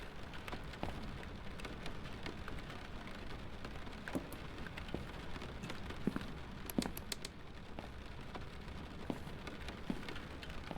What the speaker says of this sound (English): these rain sounds on these windows here, they're definitely on the loud side